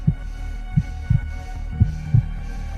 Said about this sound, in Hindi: रोहित के दिल की धड़कनें ये सब सोचते सोचते इतनी तेज चलने लगी कि उसे अपनी धड़कनें आसानी से सुनाई दे रही थीं।